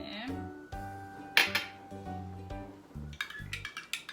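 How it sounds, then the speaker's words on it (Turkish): Black-eyed pea salad with blueberries being tossed with sauce in a dish, giving close clinks and knocks of a utensil against the bowl in an irregular rhythm, fairly quiet, with faint voices in the background. "ve sosumuzu. bir güzel karıştıralım."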